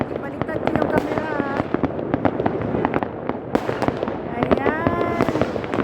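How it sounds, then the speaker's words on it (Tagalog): New Year fireworks and firecrackers burst constantly in dense, overlapping cracks and pops, some near and loud and others distant, while whistling rockets rise and voices talk underneath. "Maraming paputok."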